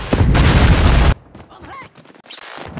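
Predator missile explosion in Call of Duty Mobile: a loud, sustained roaring blast for about a second that cuts off abruptly, followed by quieter scattered game sounds and voice callouts.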